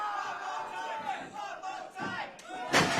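A pro wrestling crowd roars and chants in loud waves, with a sharp burst of cheering near the end; a commentator's voice may sit faintly underneath.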